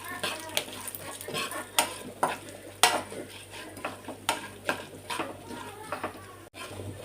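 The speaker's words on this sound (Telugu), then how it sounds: "కొంచెం శనగపప్పు మీరు కావాలంటే మినపప్పు కూడా వేసుకోండి ఇవన్నీ బాగా ఫ్రై చేసుకోవాలి సిమ్లో పెట్టుకొని" Chana dal and urad dal fry in a pan over low heat, with a soft sizzle under repeated sharp scrapes and clinks of a spoon stirring against the metal.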